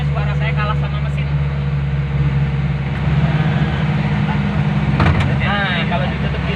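A car engine hums steadily while driving along a road through the Dieng highland villages, a constant low drone with road rumble, heard close inside the vehicle beneath people talking.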